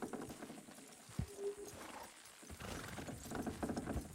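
Horses pulling a load in the Red Dead Redemption 2 video game, with faint hoof clops, creaks and mechanical strain at low level.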